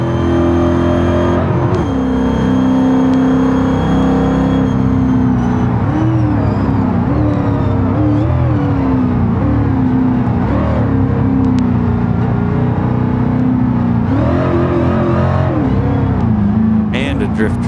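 Truck engine in the BeamNG driving game, revving and droning steadily while the truck drifts, rising and falling with throttle, with someone talking over it throughout.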